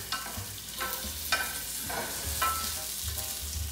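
Garlic sizzles in a pan on a gas stove for a chicken fricassee, an even close frying hiss punctuated by regular scraping strokes of a utensil about once a second, with no voices.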